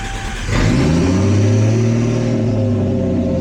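A Toyota Cressida engine cranks and catches, then settles into a loud, steady idle close by.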